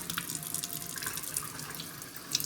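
Tap water runs steadily into a sink while pork neck bones are rinsed, a continuous close splashing with faint drips on top and no talking.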